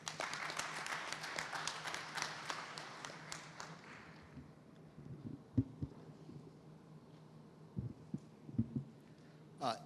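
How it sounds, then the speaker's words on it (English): Audience applause at a learner environment safety summit conference in Mbombela, Mpumalanga, a dense burst of clapping over the first few seconds that fades out, followed by scattered thumps and faint room noise. "A round of applause, please."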